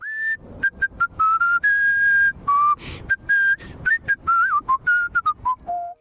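A person whistles a clear, bright melody alone, with sustained notes broken by short quick phrases, close and fairly loud.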